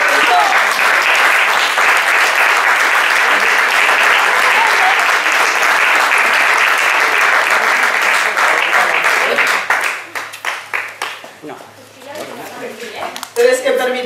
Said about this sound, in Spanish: vou a pedir un forte aplauso